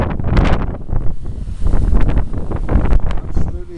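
Strong wind buffets the microphone on Hemsby Beach in heavy seas, a loud continuous roaring rush with gusty surges throughout.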